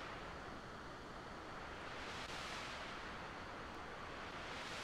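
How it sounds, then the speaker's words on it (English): Broadband noise is swept through a modulated EQ, its tone rising and falling in slow surges that resemble ocean waves washing in, faint and continuous with no voice. "it almost sounds like waves."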